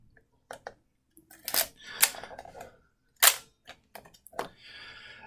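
Film advance lever on a Dakota RZ-2000 camera being worked, producing a sequence of sharp mechanical clicks and ratcheting snaps with short quiet gaps between, close and distinct.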